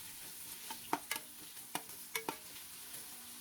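Garlic, lemongrass and onion are sautéed in a pot for beef shank bulalo: a soft sizzle broken by several sharp spoon scrapes and taps against the pot, with no talking.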